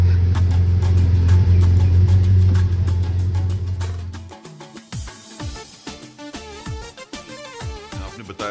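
Ferrari 488 Spider sports car engine with a flappy-paddle gearbox, a loud sustained low growl for about four seconds that then drops away into quieter, broken revving and shifting sounds.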